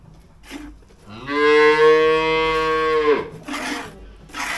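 A cow moos once, loud and close, a long drawn-out bellow during hand milking, with faint shuffling and small noises before and after.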